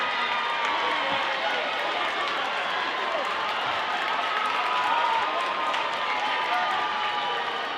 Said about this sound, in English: Hey, come on, round of applause,